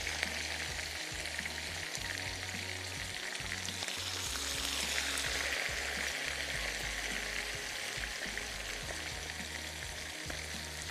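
Achari koftas frying in hot oil in batches give off a loud, continuous crackling sizzle that stays even and close throughout, with a faint low hum underneath and no voices.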